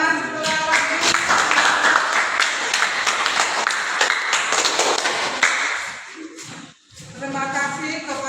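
Applause from a classroom audience after a group's class presentation, a dense burst of many hands clapping close by for several seconds before thinning out, with a brief pause and some talk as it fades.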